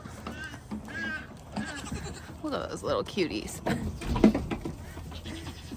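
Goats bleat on a home farm, several short calls scattered through the clip amid a woman's soft speech and outdoor background noise.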